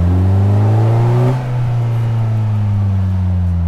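Lightweight car on a Maui road, engine loud and close as it accelerates, pitch rising through the first second before a shift, then pulling on steadily at a lower note.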